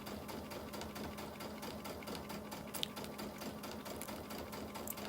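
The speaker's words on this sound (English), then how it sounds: "Now we're gonna stitch it, try and keep it along there." A sewing machine stitches fabric along a guideline in a steady, continuous whir with fine rapid needle pulses, close and alone throughout, no talking.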